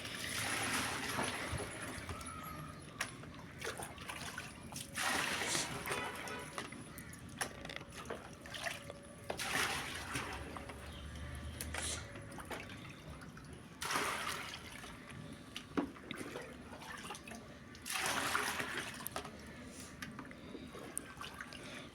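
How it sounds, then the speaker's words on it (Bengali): Water pouring into containers, gushing and splashing in several intermittent bursts with trickles between, fairly faint and close, with no speech. "আমি কিন্তু জলগুলো ভরে নিচ্ছি"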